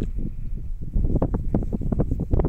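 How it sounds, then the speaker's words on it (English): Wind blowing on a beach during metal detecting, a steady rumbling gust against the microphone with rising buffets toward the end, loud and close, with no speech. "Wind's picked up."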